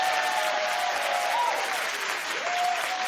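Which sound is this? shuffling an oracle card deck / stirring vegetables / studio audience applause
studio audience applause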